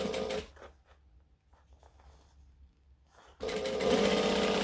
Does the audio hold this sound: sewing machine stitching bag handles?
yes